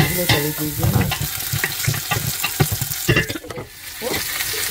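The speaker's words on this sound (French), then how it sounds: "je place l'huile de palme au feu et je mets les oignons" Onions sizzling in hot palm oil in a pan, a loud crackling fry with stirring scrapes and clatter throughout, close and continuous.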